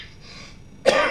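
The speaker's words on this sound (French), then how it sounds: "la toux sèche de Jérusalem qui me hante" A man gives a single abrupt dry cough at the end of a quiet pause, close and fairly loud.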